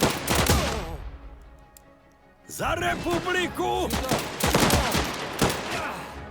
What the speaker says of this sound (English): Gunfire will finish it.